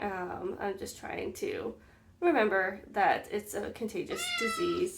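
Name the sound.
cat meowing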